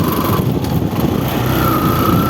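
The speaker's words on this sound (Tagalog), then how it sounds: "Nabibitin na yung ating makina." A motorcycle engine runs steadily and loudly up close, a continuous buzzing drone with a faint whine holding through the whole stretch and no talk over it.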